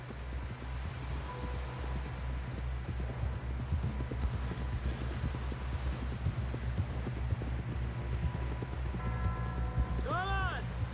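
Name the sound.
horse galloping in Red Dead Redemption 2 video game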